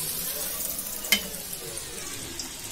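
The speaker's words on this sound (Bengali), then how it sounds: "আমি এক এক করে সবজিগুলো ভেজে নেব। গাজর দিয়ে দিচ্ছি" Carrots and other vegetables fry in a pan with a soft, steady sizzle, interrupted by one sharp clink or tap partway through, heard close and without talk.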